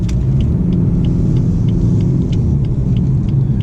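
A 2017 BMW 420d xDrive drives steadily through a roundabout, a loud continuous low cabin rumble of engine and road noise with faint ticking clicks and no talk.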